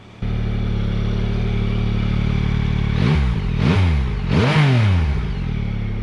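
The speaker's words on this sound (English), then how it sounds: "this engine's exhaust note just has a really racy sound to it that I quite enjoy" A Yamaha Tracer 9's CP3 three-cylinder engine idles steadily up close, then its exhaust barks through three quick throttle blips, each rising sharply and falling back to idle, the last one longest.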